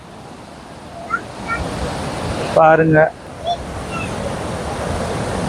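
The Sarabanga river, swollen after two days of heavy rain, rushes with a steady broad roar of flowing water, close and constant, while someone speaks briefly over it.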